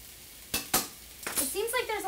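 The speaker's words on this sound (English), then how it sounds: "And with my tongs, I'm going to toss everything together." Sliced bell peppers, onions and mushrooms sizzle in a pan as metal tongs toss them, giving a few sharp scraping clinks over a soft frying hiss, close up, with a voice briefly heard.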